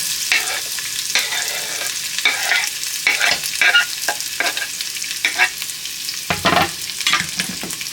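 Onions sizzling and frying in a pan on a home stove while being stirred, with broadband crackle broken by repeated scraping and stirring strokes close by; no one talks.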